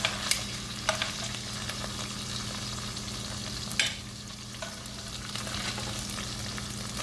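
Steak sizzling and frying in a hot pan for pepper steak after three minutes per side, a steady moderate crackle with a few sharper pops and utensil scrapes, no talking.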